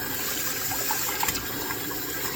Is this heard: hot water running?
yes